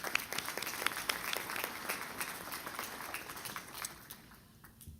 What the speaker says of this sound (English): Let's give Baron a round of applause.